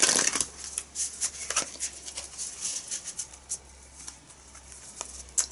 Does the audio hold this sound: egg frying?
no